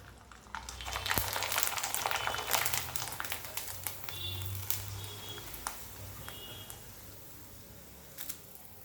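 Kurdai frying in hot oil over a full gas flame, a steady soft sizzle and crackle with scattered pops and occasional clicks, close by and without talk.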